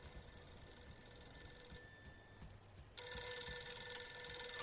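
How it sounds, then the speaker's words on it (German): A telephone rings in the Mafia 2 video game, a faint, thin electronic bell tone that grows louder and clearer partway through, with no talk over it. "Ah, schon das Telefon."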